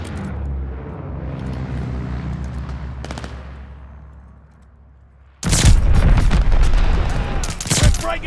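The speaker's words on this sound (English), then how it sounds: "Hostile bombers inbound!" Video game battle: hostile bombers droning overhead fade away, then a sudden loud burst of explosions and rapid gunfire erupts close by and continues, with sharp bangs near the end.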